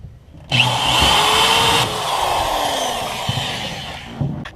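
A power drill whines loudly and continuously, bearing down through truck metal, its pitch shifting slightly before it spins down and stops.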